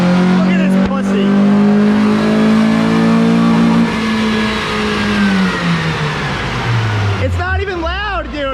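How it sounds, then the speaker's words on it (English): Car engine revving hard during a dyno pull, a loud close roar climbing and then dropping in pitch, with excited voices shouting over it near the end. "here we go with the dyno pull"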